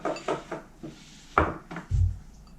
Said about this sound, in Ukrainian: Наріжемо цибульку напівкільцями.